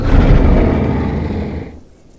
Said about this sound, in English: here's the distress call.